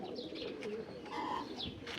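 Baku pigeons coo softly nearby, with a few brief chirps mixed in over a low background hum.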